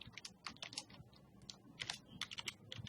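Keys on a computer keyboard are typed in quick irregular bursts, close and clear, with short pauses between clusters of clicks.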